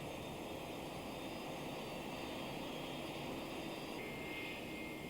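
An MD-11 jet airliner taxis toward the camera, its engines giving a steady, faint, distant whine and rumble throughout, with no voices.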